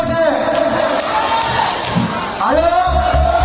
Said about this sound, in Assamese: জোৰেৰে হাত চাপৰি মাৰক